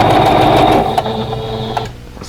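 A sewing machine runs a fast steady stitch along a quilt block seam, close and loud, then slows and stops with a couple of clicks near the end, no voices.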